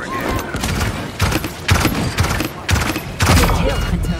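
Gunfire in the team deathmatch shooter Paladins on the Snowfall Junction map, heard as loud repeated bursts of shots in several clusters, with game character voice callouts over the combat.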